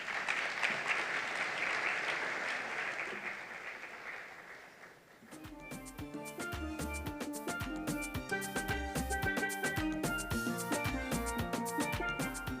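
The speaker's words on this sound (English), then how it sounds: "A round of applause for everyone" Enthusiastic crowd applause at a medical charity gala fills the first few seconds, then fades as rhythmic music with a steady beat takes over.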